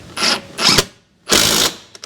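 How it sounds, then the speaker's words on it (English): A ratchet tightening the lug nuts on the wheel of a Jeep CJ5, with three short bursts of fast clicking separated by pauses and then a few faint ticks, close and clear with no speech. "let's finish tightening the tire up if we can"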